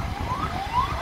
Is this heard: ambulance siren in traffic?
yes